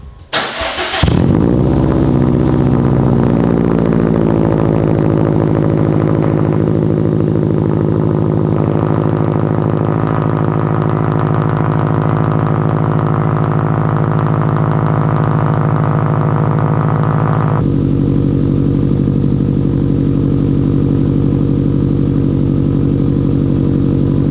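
A Subaru STI with a Tomei Expreme Ti exhaust starts with a short burst, then settles into a loud, steady deep exhaust drone that holds for over twenty seconds, shifting slightly near the end.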